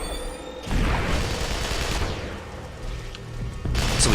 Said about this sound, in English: So we got him with the grenade.